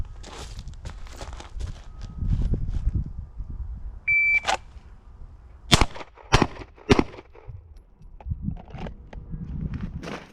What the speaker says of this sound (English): I have 5 seconds to fire 3 rounds.